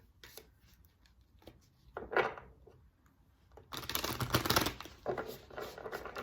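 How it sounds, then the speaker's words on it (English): Tarot cards are shuffled in short riffling bursts, a quick flutter first, then a longer, denser run of snapping and rustling near the end. "Give it one more shuffle."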